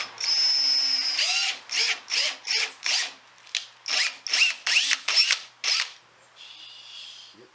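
Power drill driving a screw into a glued wooden plug on a Nichols and Stone rocking chair, a whirring run followed by a string of short, stuttering bursts as the trigger pulses, loud and close.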